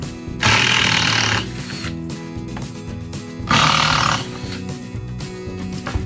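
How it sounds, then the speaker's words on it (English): A power driver runs two loud bursts, each lasting about a second, while screwing a board down into an old wood floor during leveling, with quieter mechanical hum and handling noises between them. "Now it's time to go ahead and screw it down."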